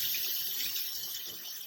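Hot water runs from a tap into a container for dyeing a handkerchief, a steady close rushing stream with no voices over it.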